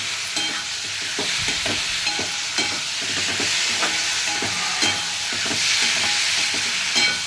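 Boiled raw plantain pieces being stirred into a tamarind curry, with a steady spoon-scraping rhythm of repeated strokes over a continuous sizzle and bubbling hiss, close and moderately loud, no talking.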